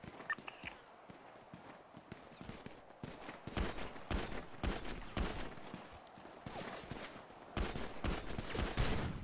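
Rapid gunfire rattles through a team shootout in GTA roleplay on the NoPixel server, dense overlapping bursts building in loudness, with players talking over the shooting.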